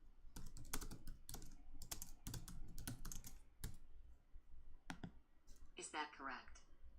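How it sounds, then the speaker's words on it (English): Rapid keystrokes on a computer keyboard, clicking in uneven bursts through most of the stretch, close and clear, with a brief burst of other sound near the end. "If we want to type a sample sentence, we can do so"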